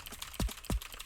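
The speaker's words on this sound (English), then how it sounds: "I can duplicate and move it over just like this really quickly with the keyboard" Two sharp keystrokes on a computer keyboard, entering shortcuts while editing in Bitwig's sampler, struck about a third of a second apart, close and clear over a quiet room.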